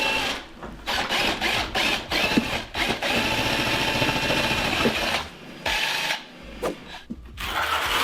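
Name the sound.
power whisk mixing tile adhesive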